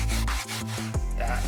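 A cloth or brush wipes and rubs across a mildewed boat vinyl seat in quick, close back-and-forth strokes, with a low hum running underneath.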